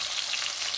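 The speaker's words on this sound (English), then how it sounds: "So while the beef is over there in the pot searing" Beef short ribs sear in a hot pot, giving a steady, close, bright sizzle with crackling spits of fat throughout, alone with no talk.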